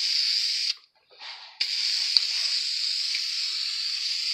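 Aerosol spray paint hisses steadily over toy foam blaster parts, laying a thick coat on two pieces; the close, continuous spray breaks off for under a second, then resumes and runs to the end.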